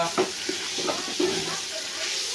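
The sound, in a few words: cooking lentils (dal) in a pot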